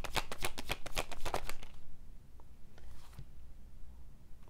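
Tarot cards shuffled in a rapid burst of crisp riffling flicks for nearly two seconds, then a few quieter soft card handling taps and slides close by.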